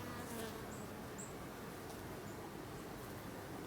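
A dense, continuous buzzing of many honey bees, nurse bees at an open hive during an inspection, hums close by, steady and low without pause, with a few individual insects whining past.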